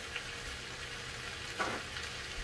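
Sea scallops searing in an oiled pan, a quiet, steady sizzle and crackle with one brief louder spit of frying near the end.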